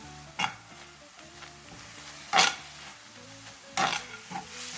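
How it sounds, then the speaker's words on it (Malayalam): A spoon stirs lasagna filling mixed with oregano, white pepper and capsicum in a pan, giving three or four brief scraping clinks over a quiet background hum. "എല്ലാം കൂടിയിട്ടൊന്ന് മിക്സ് ചെയ്ത് കൊടുക്കാം"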